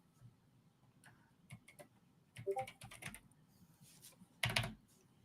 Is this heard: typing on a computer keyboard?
yes